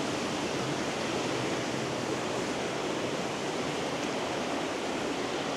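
Water rushes steadily beneath a small footbridge on a forest waterfall trail in Glenariff Forest Park, a dense, unbroken roar that stays loud and even throughout with no voices.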